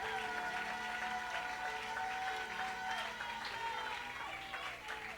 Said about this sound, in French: Est-ce que tu peux acclamer pour la parole de Dieu?